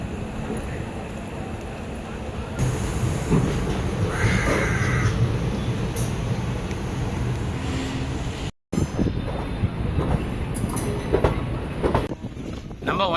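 The 16115 Auroville Express pulling out of Chennai Egmore station, a steady rolling rumble with wheel clatter, crows cawing nearby and someone talking over the train.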